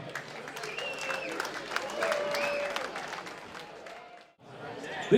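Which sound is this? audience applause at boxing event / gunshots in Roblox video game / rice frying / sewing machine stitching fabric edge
audience applause at boxing event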